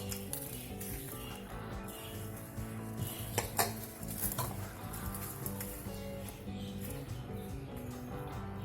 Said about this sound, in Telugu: కొత్తిమీర వేసుకొని కలుపుకోవాలి. అడుగు నుంచి తిప్పుకోవాలండి